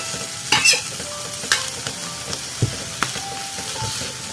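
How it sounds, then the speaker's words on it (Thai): Vegetables stir-fried in a hot pan, a steady hiss of frying with repeated scrapes and knocks of the spatula, close and fairly loud, no talking. "ผัดแบบ ง่ายๆนะจ๊ะ นี่แล้วเราใส่ผักนี้ไปเลยนะคะ"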